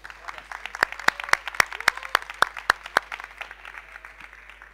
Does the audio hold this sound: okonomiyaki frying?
no